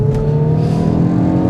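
A Hyundai i20N hot hatch pulls hard in second gear, its engine holding a loud, steady, rising drone for a brief moment.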